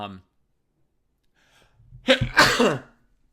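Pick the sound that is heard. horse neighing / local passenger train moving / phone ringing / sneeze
sneeze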